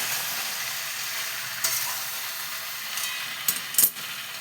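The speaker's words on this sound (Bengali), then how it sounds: "এটা একটু ভালো করে ভেজে নেব।" Kashmiri chili powder fries in oil in a pan for a jujube pickle, giving a steady soft sizzle with a few sharper pops and clinks of stirring near the end.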